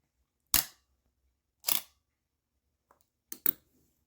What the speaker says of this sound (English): this is where the actual shutter button depresses. We'll hear the shutter fire.